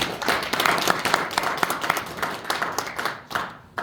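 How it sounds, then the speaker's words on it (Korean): A congregation at a church gathering claps to welcome a chairman, close and fairly loud, with distinct individual handclaps standing out from the group's uneven, choppy applause. "우리 다음은 이대식 회장님 큰 박수로 모시겠습니다"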